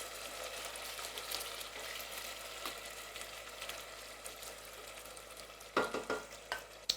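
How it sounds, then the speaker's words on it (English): Beef and goat meat fry lightly in a pan, a soft, steady sizzle close by, broken near the end by several sharp spatula scrapes and knocks. "we're going to add our beef and goats to the pan. So just let it fry"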